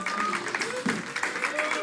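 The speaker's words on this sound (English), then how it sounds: "Give him a round of applause" A comedy club audience applauds and cheers as a comedian from Singapore is welcomed to the stage in LA; a dense, steady wash of clapping fills the room, with a voice calling out over it.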